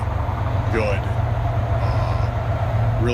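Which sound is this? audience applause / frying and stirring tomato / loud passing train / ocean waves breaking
loud passing train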